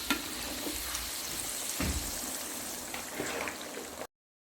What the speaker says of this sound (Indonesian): ini kita goreng dengan minyak panas dan api sedang ya Mams